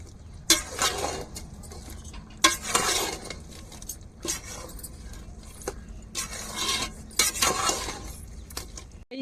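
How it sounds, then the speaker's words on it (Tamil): Biryani masala powder being stirred into vegetables in a pan, bursts of metallic scraping and clinking as the spoon works through the mix, close and moderately loud, with pauses between strokes and no talking. "இப்போ மசாலா பொடியை நம்ம கலந்து விட்டுருவோம் பிரியாணி மசாலா பொடி"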